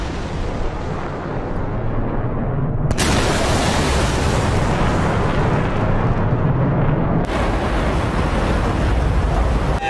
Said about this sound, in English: SA-10's firing.